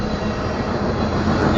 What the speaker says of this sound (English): the grain train's going about 50 miles an hour